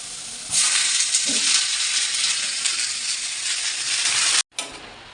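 Spinach dropped onto lightly browned frying potatoes sets off a sudden loud, broad sizzle that holds steadily before cutting off abruptly, then a brief fainter hiss resumes.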